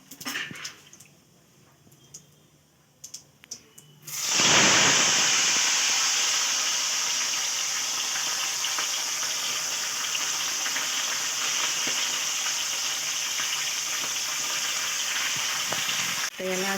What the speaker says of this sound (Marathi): आता याच्यामध्ये आपण हे जिरं टाकू.